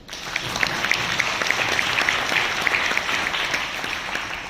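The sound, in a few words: audience loud applause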